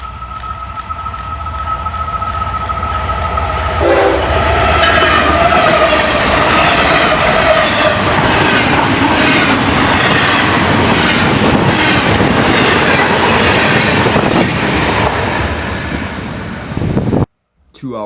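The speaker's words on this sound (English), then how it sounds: "We start off our video with the southbound train 109 with unit number 802 on point." Florida East Coast Railway southbound freight train 109, led by locomotive 802, rumbles loudly past with a steady roar of wagons and rhythmic wheel clatter, a brief horn at the start, ending abruptly.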